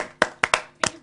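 Four sharp hand claps in an irregular pattern, close and crisp, with quiet gaps between them and no voices.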